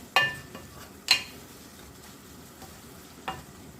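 Onions and spices with ginger-garlic paste fry in a pan for fish bhuna. A faint, steady sizzle runs underneath, with a few sharp spoon scrapes and clinks against the pan as the mixture is stirred.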